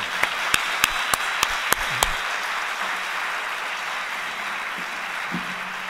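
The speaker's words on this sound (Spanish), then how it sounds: "yo creo que un fuerte aplauso, ¿no?" Applause from an audience opens with a handful of sharp, separate claps, then settles into a steady, soft wash of clapping that continues evenly to the end.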